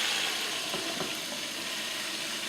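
Peppered chicken sizzles steadily in a covered pot on an electric stove, a soft continuous hiss and gentle frying crackle, fairly quiet and close, with no voices.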